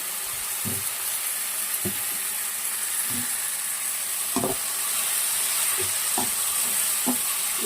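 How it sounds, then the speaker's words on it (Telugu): Tomatoes for capsicum masala curry stirred in a pan, a steady frying sizzle with soft, regular scraping strokes every second or so, close and moderately loud, with no talk. "టమాటా అనేది బాగా మగ్గిపోవాలా మెత్తగా సాఫ్ట్గా అయ్యే వరకు కలుపుకున్నాము"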